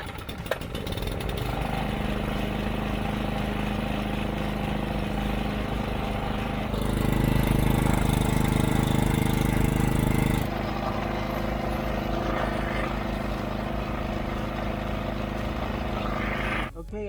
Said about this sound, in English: The engine runs smoothly.